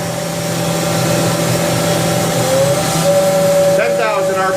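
A 2004 Haas VF-4SS Super Speed vertical machining center spindle spinning at 7,500 RPM, giving a steady high whine with a sustained tonal hum that shifts pitch slightly, loud and continuous throughout.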